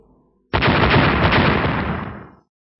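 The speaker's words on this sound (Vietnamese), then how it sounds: "Sau ba tiếng nổ lớn" A sudden, loud explosive blast bursts out of near silence, then roars and rumbles for about two seconds before cutting off.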